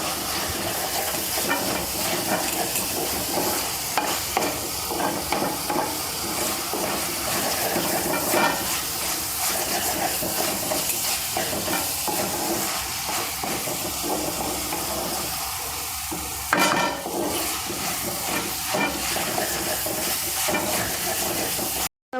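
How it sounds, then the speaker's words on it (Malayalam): Masala paste with onion, ginger and garlic sautéing in a pan for liver curry, a steady close hiss and sizzle with faint stirring scrapes running throughout, no talk. "അപ്പോൾ അരപ്പും ഈ സവാളയും ഇഞ്ചിയും ഉള്ളിയും വെളുത്തുള്ളിയൊക്കെ കൂടി ഒന്ന് വാടട്ടെ"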